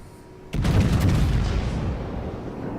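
Warship main guns fire in the World of Warships naval battle game, one heavy boom that cuts in sharply and then rolls on in a long, loud rumbling decay.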